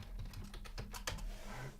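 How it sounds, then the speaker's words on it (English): Quick light clicks of typing on a computer keyboard, a short burst of keystrokes close by at low level over a steady room hum, no speech. "Let's type at least good morning"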